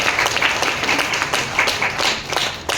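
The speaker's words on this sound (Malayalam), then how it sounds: "കുറച്ചാളുകൾ കൈയടിച്ചു" An audience at a business product and project presentation breaks into steady, moderately loud applause, many hands clapping continuously throughout with no one speaking.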